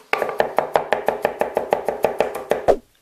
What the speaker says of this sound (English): We wanna give it a good smash and then chop it up real fine